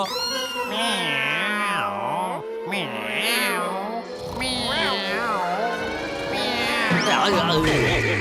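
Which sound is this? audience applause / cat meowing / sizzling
cat meowing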